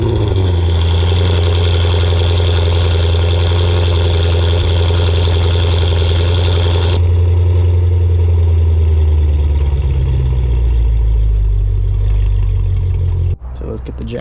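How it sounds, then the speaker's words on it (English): A C7 Audi S6 cold starts and settles into a loud, steady idle close by, with its deep rumble holding high before easing down midway, and someone talking over it. "this will be a good chance for you guys to hear the cold start"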